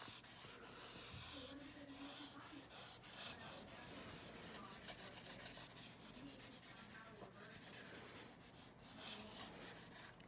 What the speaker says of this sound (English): I can use my eraser and my charcoal to kind of show what makes them unique